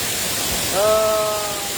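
Steady broadband rush of the Efrata waterfall in Harian Boho, Samosir, a dense continuous roar filling the clip, with a brief tonal voice-like sound rising over it midway.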